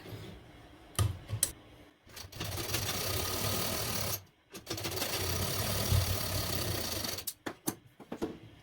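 A sewing machine runs steadily while stitching a joined strip for a Bombay cut blouse, with long continuous whirring bursts broken by short pauses and a few clicks between runs.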